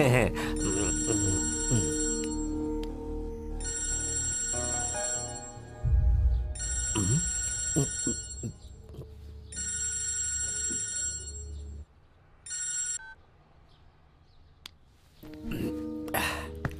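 A telephone rings repeatedly in long electronic trills with short gaps, while people talk and move around nearby; the ringing stops abruptly near the end.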